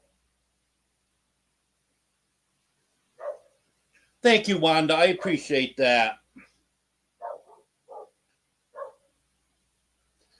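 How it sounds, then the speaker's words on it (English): A dog named Honey gives a few short, separate barks at low volume in the background, with a person speaking over part of the stretch. "Yep, Honey's barking."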